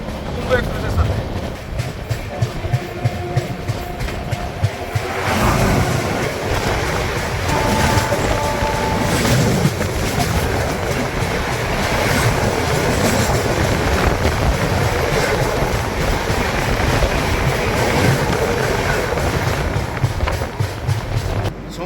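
Amritsar Mail express train running steadily on its rails near the end of a long journey, a continuous loud rumble and rattle of carriages with rhythmic clatter throughout, with voices faintly audible over the noise.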